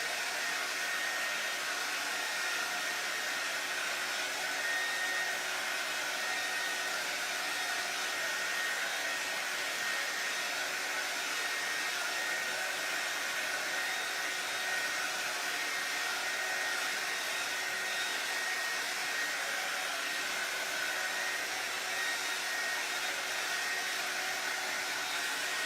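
A hair dryer blows steadily to dry paint on a stretched white canvas for a faux farmhouse wood sign, a constant even whine and whoosh held for the whole stretch with no talking.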